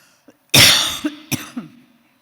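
A short burst of harsh coughing, a few rough coughs in quick succession, close and fairly loud, then quiet.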